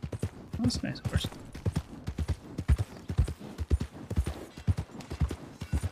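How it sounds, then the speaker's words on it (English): Hooves clip-clop steadily from a horse in a video game, a brisk rhythmic walking pattern heard up close and fairly quiet, with a few muffled voice-like sounds early on. "That's a nice horse."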